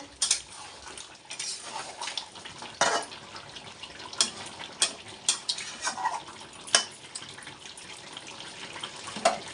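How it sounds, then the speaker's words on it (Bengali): Chicken being stirred and sautéed in a pan for a Bengali meat and new-potato curry, with repeated scraping clinks of a metal spoon against the pan over a soft steady sizzle. "চিকেন আমার কত দূর এখনো আরো একটু কষানো হবে আরেকটু কষানো হবে"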